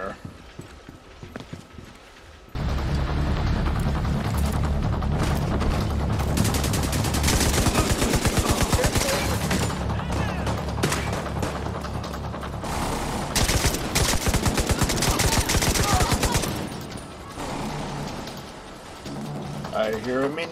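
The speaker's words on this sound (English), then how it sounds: "I hear a minigun." Minigun fire in The Division 2, a long sustained roar of rapid rounds that starts abruptly and drones steadily for many seconds before fading, heavy and loud, with a voice speaking in the background.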